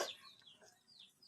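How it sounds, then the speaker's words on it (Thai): A domestic chicken gives a few faint, short clucks in quick succession, quiet and somewhat distant, with no voices over them. "ไก่บ้าน"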